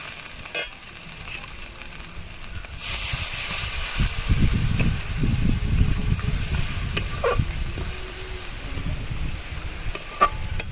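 Water poured into a hot pan of chicken with turmeric and chili powder, a sudden loud hissing rush of steam that settles into steady close sizzling with scattered utensil clicks, no voices.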